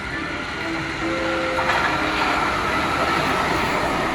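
A train rumbles into a station with a steady low roar and a faint high squeal of wheels on rails, loud and continuous.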